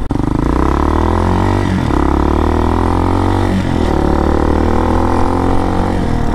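Hawk DLX motorcycle engine with a tuned Delphi EFI computer on a test ride, loud and close, revving through repeated gear shifts with rising and dropping engine pitch and no talk.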